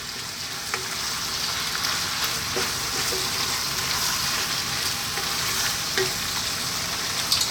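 Cooked farfalle pasta is stirred in a hot pan over high heat, giving a steady close sizzle and frying hiss with occasional scraping knocks of the utensil throughout.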